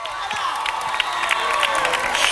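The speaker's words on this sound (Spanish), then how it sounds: "Un aplauso." A crowd at the Telde Grand Carnival drag gala applauds and cheers continuously, with dense clapping and shouts filling the hall at close range and no pauses.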